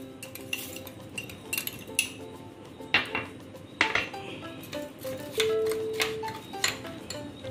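A spoon clinks and scrapes against a bowl while mishri sugar is stirred into homemade butter, irregular sharp taps and rattles spread across the clip, close and fairly quiet.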